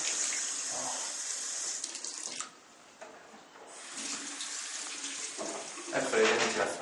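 Tap water running in a fairly large lodge room during a hiking trip to the Sopranes lakes, a steady close hiss that dips briefly partway through, then swells again.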